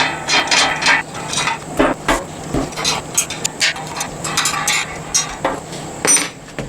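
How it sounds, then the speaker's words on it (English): A ratchet tightens bolts on a motorcycle hitch carrier mounted to a Jeep Wrangler receiver, giving rapid bursts of sharp clicking strokes, loud and close, with brief pauses between sets and no talking. "we'll tighten those bolts up into the bottom to hold on the receiver"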